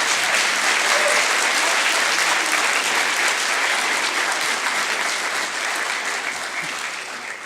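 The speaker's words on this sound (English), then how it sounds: "How about a round of applause for this one symphony right here?" An auditorium audience at an honor band festival gives the school symphony a full, dense round of applause, steady and loud at first, then gradually easing toward the end.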